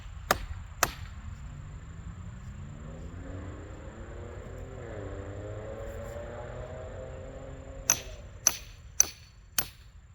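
Sharp strikes ring out while a tree trunk is split for fence posts: two early blows, a long stretch of low rumble with a slowly rising drone, then four evenly spaced hits close together near the end.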